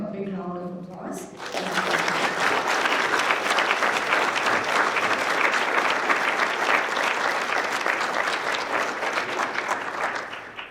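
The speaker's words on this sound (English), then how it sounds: "let's show them how excited we are and to hear from them by giving them a big round of applause" A conference audience at university lightning talks bursts into a big round of applause after a brief spoken introduction, the dense, even clapping holding loud and steady for about nine seconds before tapering slightly.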